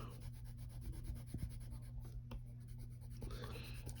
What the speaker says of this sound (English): And use the side of your pencil or crayon.